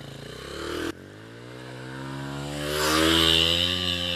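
A motorcycle engine on a trail ride idles with a steady throb, then its revs climb to a louder, rising whine close by.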